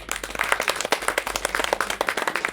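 Audience clapping at a Kannada film trailer launch for Uttara and Abhyanjana, a steady, dense patter of many hands sustained throughout without any voices over it.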